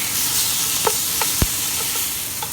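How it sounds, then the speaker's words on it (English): Steak sears in a hot pan with a loud, continuous hissing sizzle. Three brief crackling spits pop out near the middle of the sizzle. "Go ahead and sear them for about 2 minutes per side."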